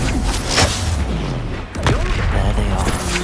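Confringo spell explosions in Hogwarts Legacy, loud booming blasts and thuds in quick combat bursts amid game effects and background music.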